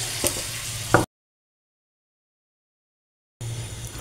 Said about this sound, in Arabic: ونقوم نازلين زي ما انتوا شايفين بالطشة بتاعتنا